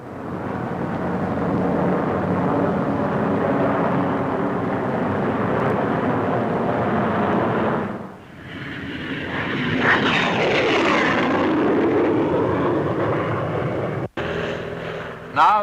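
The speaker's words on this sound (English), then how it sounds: "The short Sherpa, an experimental plane, will help the development of future operational aircraft." Short Sherpa experimental aircraft flying at a 1950s Farnborough airshow, a steady loud engine roar that dips briefly, then swells as the plane passes, with a shifting tone.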